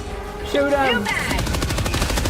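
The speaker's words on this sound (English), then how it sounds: "Shoot him!" Rapid automatic gunfire in the video game Helldivers, a fast stuttering burst of shots in close succession, heard over game sound and a player's voice.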